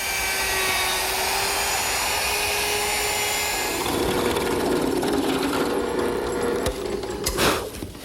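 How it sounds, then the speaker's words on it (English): Router with a 1/2-inch radius roundover bit shaping redwood edges, a loud, steady high-pitched whine that shifts tone partway through as the cut changes, then tapers off near the end. "A 1/2-inch radius roundover bit takes care of the edges."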